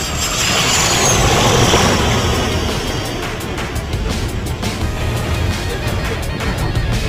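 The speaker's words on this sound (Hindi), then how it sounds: "कुछ ही पलों के बाद सुपरसोनिक स्पीड से उड़ने वाले विमानों की वापसी हुई।" A supersonic Pakistani Air Force fighter jet roars past, a loud broad rushing engine noise that peaks early and then fades into a steady rumbling whoosh.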